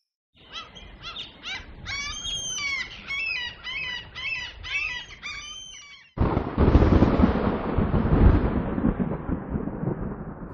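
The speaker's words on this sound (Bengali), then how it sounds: "সকাল সকালে এত বিদ্যুৎ চমকাচ্ছে আজ। আজও মনে হয় বৃষ্টি হবে।" A morning thunderstorm in an animated Bengali story: about six seconds of busy birdsong give way to a sudden loud, deep, rumbling roar of thunder that holds steady to the end.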